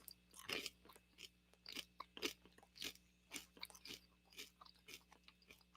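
Someone munches food up close, giving a faint, steady run of crunchy bites and chewing with short pauses between mouthfuls and no talking.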